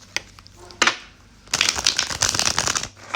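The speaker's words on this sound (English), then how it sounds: "Why am I doing this? I already shuffled this freaking deck." A deck of tarot cards is shuffled close up, with a few sharp single riffles early on and then a long, dense run of rapid flicking and riffling that stops near the end.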